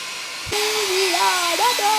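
A hair dryer blows a steady hiss of air onto freshly washed hair, switching on abruptly and running loud and close, with someone speaking over its whine.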